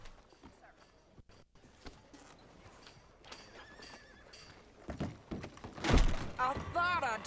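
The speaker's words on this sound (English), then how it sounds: "Este caballo es más rápido que el de Arthur." Hooves clip-clop from a horse in the video game Red Dead Redemption 2, with a loud close neigh and whinny near the end over ongoing game sounds and some voices.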